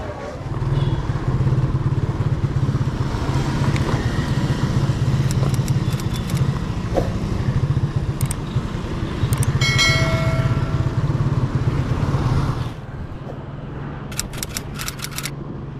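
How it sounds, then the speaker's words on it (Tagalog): A Suzuki Smash motorcycle engine drones loudly and steadily while riding, with a low rumble, wind noise and occasional clicks and rattles, then drops off near the end. "So yung gamit na motor po natin is ito yung Suzuki Smash po natin"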